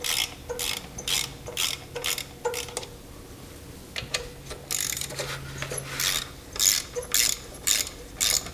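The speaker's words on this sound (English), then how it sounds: "we need to remove the two 10mm bolts on the either side of the EGR" A hand ratchet loosening 10mm bolts on the EGR valve of a GM 3.4L V6 engine gives repeated bursts of crisp, close clicking with brief pauses between strokes and no speech.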